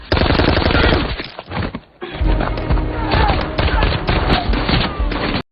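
Sustained automatic gunfire from a woman soldier's gun in an action movie, loud rapid bursts with a brief lull before the shooting resumes.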